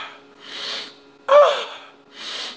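Someone sniffs the Miss Fame 'Under My Skin' makeup palette in three close, breathy inhales, spaced evenly apart in a quiet room.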